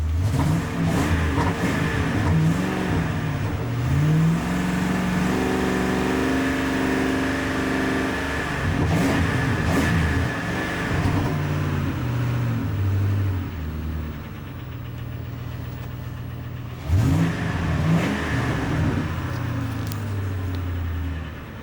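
A 2008 Ford F-250 Super Duty pickup with 158K miles runs close by with a steady, rumbling idle, broken by several throttle blips where the engine revs up and settles back down.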